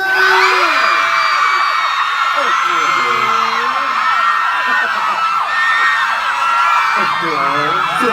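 Fans at a fashion show walkway scream, whoop and cheer in a continuous loud crowd roar, with high shrieks rising over it throughout.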